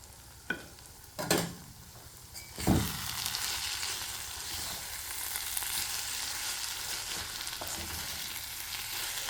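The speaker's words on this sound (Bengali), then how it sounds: "আর এটা একটুক্ষণ গরম করে নেবো, যাতে করে বেসনের কাঁচা গন্ধটা না থাকে।" Gram flour stuffing for bitter melon sizzles in a hot pan and is stirred as it cooks. A few utensil knocks come first, then a loud, steady hiss of frying runs to the end.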